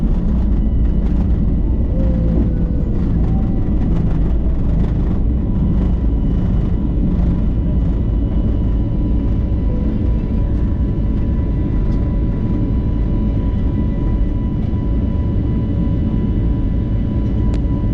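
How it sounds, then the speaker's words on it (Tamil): A passenger airliner takes off westward from an airport near Tambaram, heard as a loud, steady jet roar and rumble that holds for the whole stretch with no talking. "இந்த டேக் ஆஃப் நான் உங்களுக்கு ஃபுல்லாக காமிக்க போகிறேன்."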